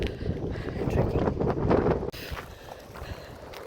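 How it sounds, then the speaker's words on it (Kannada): Strong wind buffets the microphone at the start of a trek, a rough gusting roar that rises and then drops off abruptly, with no one talking. "ಸಿಕ್ಕಾಪಟ್ಟೆ ಗಾಳಿ ಊರು ಇದು."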